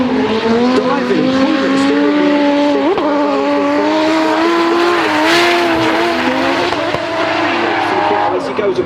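Drift cars slide through a corner at a British Drift Championship round at Three Sisters circuit, engines howling loud and continuous with tyre squeal, under a commentator's voice.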